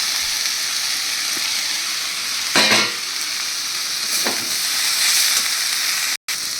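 Potatoes frying with spice paste in a pan for a banana-stem ghonto, a steady sizzle with a brief louder burst and a few stirring scrapes, no talking.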